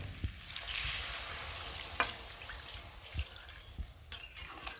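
Fried masala for Bengali egg curry sizzling softly in a pan as water goes in, a faint hiss and bubbling with a few scattered clinks of stirring, quiet and close, no speech.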